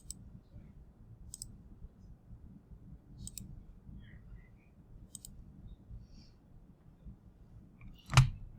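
Mouse clicks in a quiet room, a handful of faint, evenly spaced single clicks over low background hiss, ending with one louder close knock, no talk.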